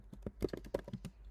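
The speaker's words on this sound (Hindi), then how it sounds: "तो मैं यहाँ पे टाइप कर लेता हूँ, ये हमें टाइप ही करना पड़ेगा।" Quiet, quick keystrokes on a computer keyboard land in an uneven burst of about a dozen clicks, close and alone with no talk over them.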